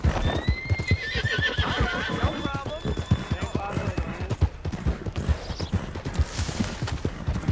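A horse in Red Dead Redemption 2 clip-clops at a steady trot with rapid close hoofbeats, then lets out a loud drawn-out neigh, while people talk over it.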